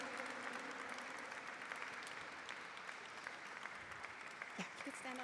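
Steady applause from an audience at a Filipino American History Month celebration, sustained and fairly close, with voices talking over the clapping throughout.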